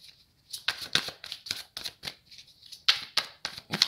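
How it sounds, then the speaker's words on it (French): Tarot cards slide and snap off a deck in a quick series of crisp, close papery flicks and riffles, about a dozen short bursts with brief pauses between them, with no talk over them. "Allez, c'est parti, je vais prendre 3 cartes."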